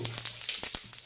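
Cumin seeds crackle in hot oil for a village-style Kathiyawadi tomato chutney, a brief, faint sizzle dotted with quick popping spits and no voices.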